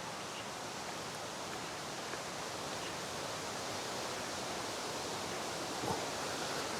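Coban Lanang waterfall in Batu, a steady broadband rush of falling water heard from behind the falls, constant and moderately faint with no voices.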